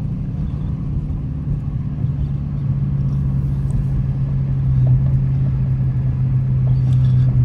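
A 2023 RT car driving with a steady low engine drone heard from inside, loud and continuous, rising slightly in intensity toward the end without sharp revs.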